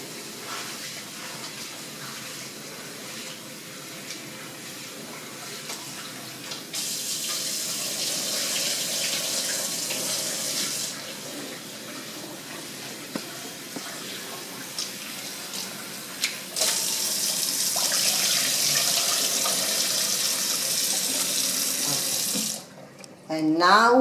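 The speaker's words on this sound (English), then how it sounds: "After mixing, we're going to wash it" Tap water runs and splashes into a sink as rice and lentils for khichdi are washed, a steady hiss that swells louder in stretches and stops abruptly near the end.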